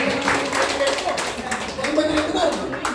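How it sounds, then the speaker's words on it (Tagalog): At a graduation gathering, an audience claps as a steady, dense patter of many hands that continues throughout, with voices mixed in underneath. "ibigyan mo na ng isang palakpak"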